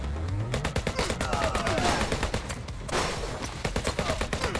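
Rapid machine gun fire from the video game HyperParasite, a dense stream of sharp repeated shots layered over other game effects, loud and continuous throughout.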